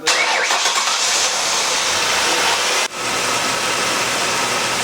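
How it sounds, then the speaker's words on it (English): A Mercury Sable engine runs steadily in a garage during a transmission flush, with a heater also going. The loud, constant hum fills the space, dips briefly, then carries on, with no talking. "Pretty loud in here with the car running and the heater going in the garage"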